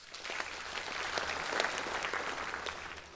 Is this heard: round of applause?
yes